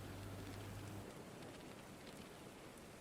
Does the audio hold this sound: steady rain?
yes